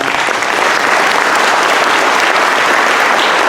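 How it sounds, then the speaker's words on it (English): An audience at a community meeting on homeless safety applauds the YMCA, a loud, dense and sustained burst of clapping from many hands, steady from start to finish with no talk over it. "Let's give them another round of applause."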